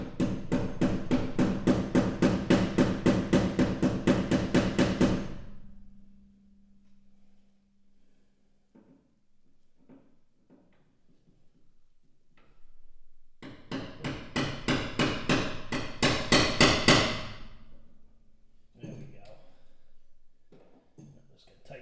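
Hammer tapping a fitting into place on a 1967 Firebird during vent and breather plumbing work: two dense bursts of rapid, evenly spaced metallic taps, close and loud, separated by a quieter stretch with a few faint knocks.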